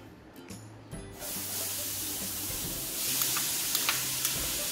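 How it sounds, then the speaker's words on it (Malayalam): Carrot sautéing in ghee in a frying pan gives a steady sizzling hiss that grows a little louder partway through, with faint low hum and occasional soft clinks, and no voices. "നമുക്കൊരു ഫ്രൈ പാൻ വെച്ചിട്ട് അതിലേക്ക് ഒരു സ്പൂൺ നെയ്യ് ഒഴിച്ച് ക്യാരറ്റ് അതിലേക്ക്"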